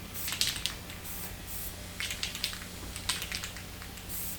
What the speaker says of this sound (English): Spraying it, giving it that second coat.